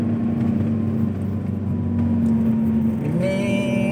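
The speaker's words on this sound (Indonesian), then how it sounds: "Ini belok dan nanjak harus oper kiri rendah lagi." A vehicle turning and climbing a steep uphill road in low gear, a steady engine drone with a rising whine as it strains, close and continuous throughout.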